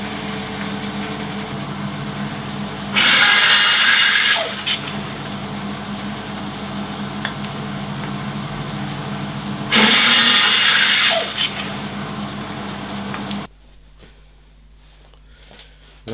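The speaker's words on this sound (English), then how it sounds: "Now we'll go on and cut the birch" A power saw cuts birch wood into slices in two loud bursts of about a second and a half each, separated by a droning idling motor that cuts off near the end.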